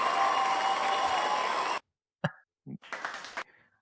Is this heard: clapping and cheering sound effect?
yes